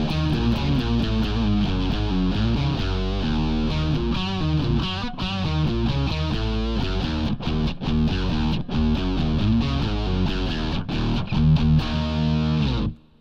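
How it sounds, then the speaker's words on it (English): Heavy distorted guitar tone layered with a bass simulator, a factory patch on a Boss GT-100 multi-effects unit, playing chunky chords and riffs continuously and loudly with no talking. "this first patch is kind of a heavy guitar tone with a bass simulator underneath"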